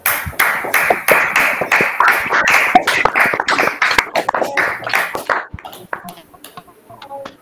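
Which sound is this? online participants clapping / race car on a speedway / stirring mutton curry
online participants clapping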